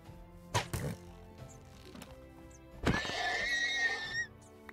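Horses neigh in the Life in the Village 2 video game: a long, loud, shrill whinny with a quavering, falling tail, after a few soft thuds and clicks. No one speaks.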